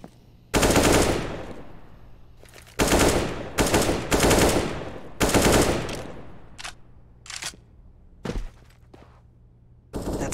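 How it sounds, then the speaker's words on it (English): Bursts of AK rifle fire in Counter-Strike on the Mirage map during a competitive esports match, loud repeated volleys with short gaps between them, some bursts long and sustained, others brief single shots. "shots with the AK are very lethal."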